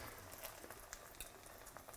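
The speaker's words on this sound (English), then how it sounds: "You hear that sizzle?" Eggplant slices coated in egg wash sizzle in hot oil in a pan, a faint steady crackle with scattered tiny pops.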